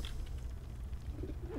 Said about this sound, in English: You still hear bird screeches